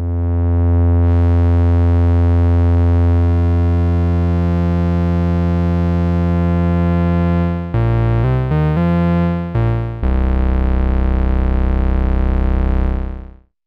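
Erica Synths Fusion VCO oscillator droning a steady, loud, buzzy tone that jumps between octaves, with abrupt stepwise pitch changes and brief cuts near the end, alone with no voices.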